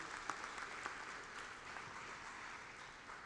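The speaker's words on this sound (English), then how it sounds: "Let's give a big round of applause for today's event." Short burst of audience applause at a university joint degree program launch, fairly faint and distant, steady clapping with no voices over it.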